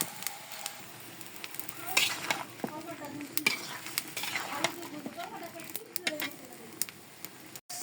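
Bottle gourd stirred and cooking in a pan, with soft sizzling under repeated scraping and clinking of a utensil against the pan, irregular and close by, with some talk in the background.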